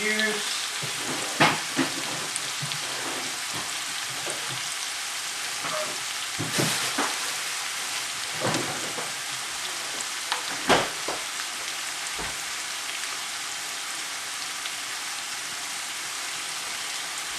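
Tomatoes going into a pan of softened frying onions, a loud bright spattering sizzle with sharp crackles and pops that settles into steady frying, no voices.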